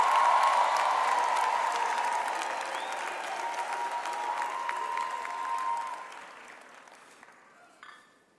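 A crowd applauding at a university graduation ceremony, steady clapping that gradually thins and fades out near the end, with a faint ringing tone underneath.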